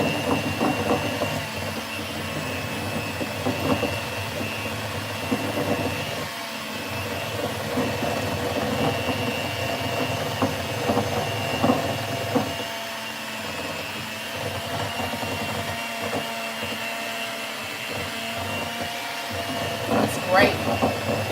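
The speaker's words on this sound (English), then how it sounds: "All right, and let's turn our mixer back on." An electric mixer whirs steadily while beating pineapple upside down cake batter in a home kitchen, a loud continuous motor drone that runs without a break and carries small fluctuations in pitch.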